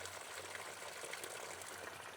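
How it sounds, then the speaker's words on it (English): A waterfall in Madeira gives a continuous broad rush of flowing water, steady and fairly faint, with no voices over it. "you can hear the water of the waterfall, then it's nice"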